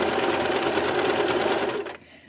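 A sewing machine zigzag-stitches the bottom edge of a knit skirt, running in a steady, rapid rattling whir for about two seconds, close and loud, before stopping abruptly.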